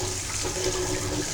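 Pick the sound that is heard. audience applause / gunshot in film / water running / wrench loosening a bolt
water running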